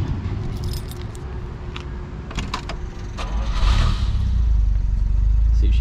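Keys for a 1968 Jaguar E-Type jangle in several quick metallic bursts close to the microphone, followed by a low engine-like rumble building toward the end.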